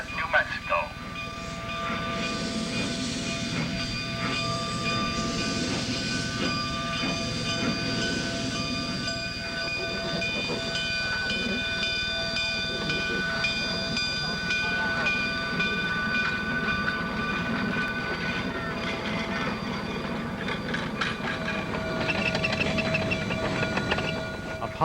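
A passenger train departs Antonito station in Colorado, a steady close rumble of rolling cars with clicking wheels, tonal whistle-like hums and brief squeals running throughout, with some voices faintly underneath.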